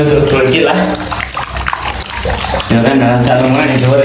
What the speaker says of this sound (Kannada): ಆಲ್ಮೋಸ್ಟ್ ತುಂಬಕ್ಕೆ ಬಂದೈತೆ ನೋಡ್ರಿ ನೀರು